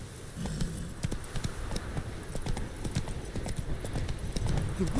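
Roach, a horse in The Witcher 3 video game, gallops with dense, steady clip-clop hoofbeats, loud and close throughout, with low rumbling underneath.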